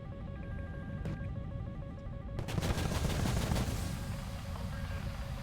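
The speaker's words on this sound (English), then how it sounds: "About to start shooting at the missiles." Aircraft cannon fire in the War Thunder air battle game: brief bursts over steady engine drone, with a denser run of rapid shots in the middle, moderately loud.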